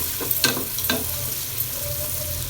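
Chopped onions fry with cashews and raisins for jeera rice, hissing loudly in the oil as a spoon makes two or three quick scraping strokes at the start, then the sizzle settles.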